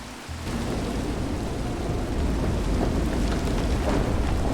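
Steady rain with low rumbling thunder in a Minecraft game world fills the whole stretch, a dense continuous roar that swells slightly louder after the first moments, with no talking.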